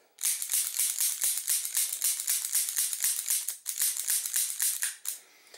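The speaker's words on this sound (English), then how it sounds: "Now I'm going to do fast trigger pulls." Fast trigger pulls on a handgun fitted with a red dot sight produce a quick run of crisp, light mechanical clicks, about four or five per second, close and fairly quiet, broken by two brief pauses, with no talking.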